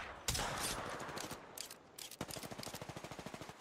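Apex Legends match gunfire: a sustained automatic burst followed by a rapid, evenly spaced string of shots, loud and close, with no voices over it.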